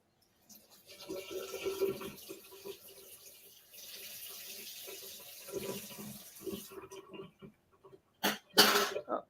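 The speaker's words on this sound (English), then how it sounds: "the ASMR of that was actually just the kitchen sink running" A kitchen sink tap runs steadily for several seconds, a soft continuous hiss of water that stops abruptly, followed by brief louder clattering noises near the end.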